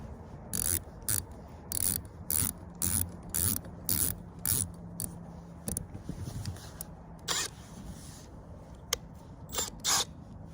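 A part is tightened during a MaxxAir roof fan install in a Promaster van, heard as a series of close, rhythmic ratcheting clicks in short bursts with brief pauses between them.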